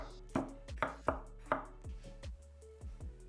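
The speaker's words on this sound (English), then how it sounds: "Cut the onion and the capsicum into big chunks." Knife chopping onion and capsicum into big chunks on a board, a string of close, sharp thuds that start hard and then soften into lighter taps, with no talk.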